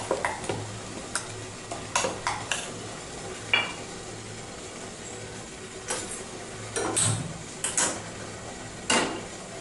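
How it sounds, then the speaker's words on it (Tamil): A spoon stirs shallots and curry leaves into thuthuvalai (Solanum trilobatum) batter in a bowl, giving irregular sharp clinks and scrapes close up with quiet gaps between them. "இது ரெண்டையும் இந்த மாவு கூட நம்ம மிக்ஸ் பண்ணிடலாம்."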